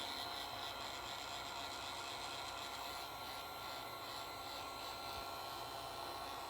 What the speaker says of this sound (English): All I've got here at the shop is a heat gun.